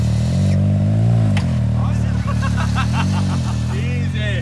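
A 1977 Ford F350 truck engine revs hard and steadily through a burnout, its loud low drone rising and falling, with a brief crack and clattering bursts in the second half while people talk nearby.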